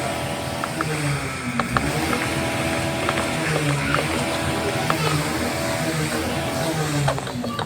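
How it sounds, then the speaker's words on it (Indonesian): A motorcycle engine warming up nearby gives a steady, continuous idling hum and rattle throughout, with a person talking over it. "mohon maaf guys kalau ada suara motor"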